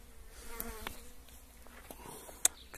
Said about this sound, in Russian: Пчелы не дают мне.